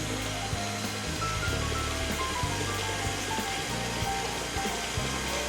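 An electric mixer on lowered speed beats cookie dough as an egg is added, a steady, loud whirring drone with a constant motor hum and a faint rhythmic knocking of the beaters against the bowl throughout.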